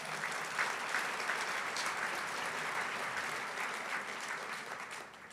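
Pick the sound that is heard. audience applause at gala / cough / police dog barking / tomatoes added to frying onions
audience applause at gala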